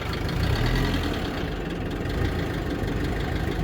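A used Japanese Mitsubishi MX35 mini excavator's diesel engine runs close by with a rough, steady, knocking rumble, held at raised revs without clear surges.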